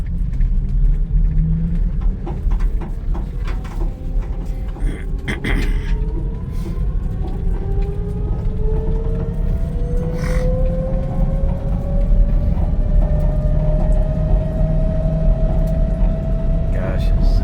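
A New Miles electric pickup truck drives along with a steady low rumble and a whine rising slowly in pitch, mechanical knocks and clunks cutting in over the continuous road noise.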